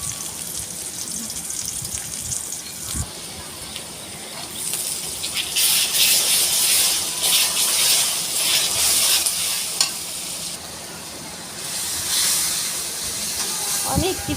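Spices being stirred and fried in a pan during home cooking, with a steady sizzling hiss that swells louder in the middle and end, close by, and a few scraping stirs underneath.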